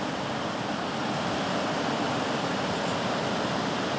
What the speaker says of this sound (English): You can see the water here flowing towards down. This is basically River Indus, the largest river of Pakistan.